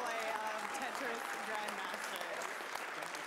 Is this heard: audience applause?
yes